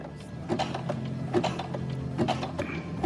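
A sewing machine backstitching to secure the stitches at one end of bra fabric gives a quiet mechanical whir with a regular rattle of clicking needle strokes, close by and alone.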